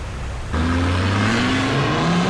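Truck engine revving hard while two trucks try to tow a stuck truck on a jungle track, a steady loud motor drone that rises in pitch after a short quieter start.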